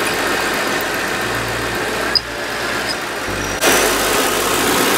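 A car engine idles steadily while the A/C compressor clutch engages with a faint click and a slight shift in the hum, close and continuous with no talk.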